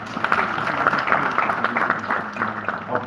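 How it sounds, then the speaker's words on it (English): Applause from an expo panel audience, a dense spread of clapping hands that carries on steadily for a few seconds. "Please give him a round of applause"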